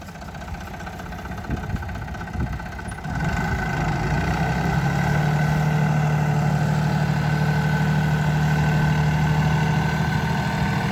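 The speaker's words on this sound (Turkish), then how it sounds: "Çıkıyor be fakırın motoru." A tractor engine labours steadily while climbing out of a bog, its rough low drone jumping louder after a few seconds and holding a sustained strained hum, close and unbroken.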